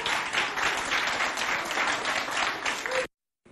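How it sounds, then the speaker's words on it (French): Audience applause welcoming contestants at a school quiz show, dense steady clapping from a crowd that cuts off abruptly near the end. "Applaudissements pour les accueillir."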